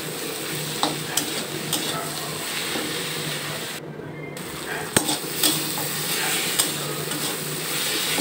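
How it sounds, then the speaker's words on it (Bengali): Water spinach and shrimp with turmeric stirred in a pan, a steady sizzle broken by scraping and tapping of the spatula against the pan, with a brief quieter gap midway. "দিয়ে আবারও কিছুক্ষণ সুন্দরভাবে নেড়ে নেব।"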